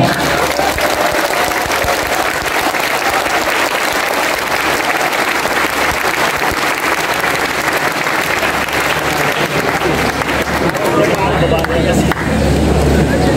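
A church congregation applauds during a sermon, a loud, continuous roll of clapping that fills the hall with crowd noise.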